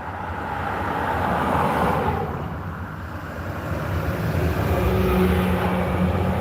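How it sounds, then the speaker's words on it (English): Heavy trucks rumble past near a railroad crossing outdoors, a steady broad low roar that swells and fades with wind noise over the microphone, fairly close and continuous with no talking. "I heard rumbling, but I think it's the trucks coming from the other side"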